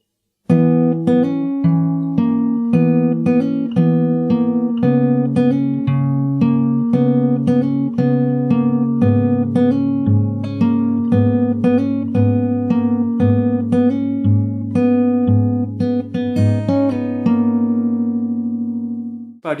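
Guitar plays through a song verse from its first bar, a steady rhythmic pattern of plucked bass notes under repeated chord strums, clear and close for about twenty seconds with no talking.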